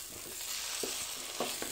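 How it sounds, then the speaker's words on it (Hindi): Cooked cabbage sabzi is stirred in a pan on the stove, a steady soft sizzle running underneath with a few brief scraping strokes of the spoon spread across the stretch. "इसको एक बार चलाते हैं"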